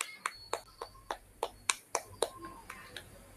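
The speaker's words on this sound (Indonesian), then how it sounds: "Iya, tepuk tangan dulu." About a dozen sharp hand claps from a small classroom group, spaced unevenly and fading toward the end, with a faint voice underneath.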